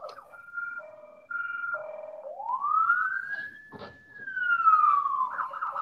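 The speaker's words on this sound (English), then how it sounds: "I got like an ambulance or something driving by" An ambulance siren sweeps by in a clear rising and falling wail with a Doppler-like glide, loud and alone with no talk over it.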